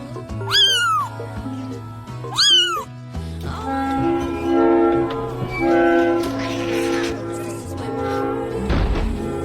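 Two loud, rising-and-falling kitten meows from a striped kitten straining to roar, close up, followed by a steady tonal background hum with music-like bands.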